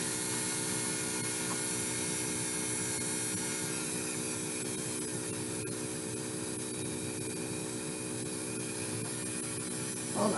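A small power drill boring into a bead with its drill bit, a steady, faint whirring hum that runs continuously with no talking.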